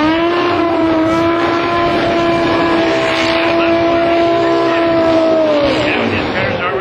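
A loud race car engine drones close by at a high, steady pitch, holding a sustained rev before the tone dips near the end.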